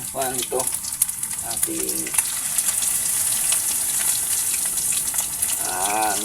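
Bolinao fish omelette with egg frying in a pan of hot oil, a steady close crackling sizzle throughout, with a few brief voice fragments over it.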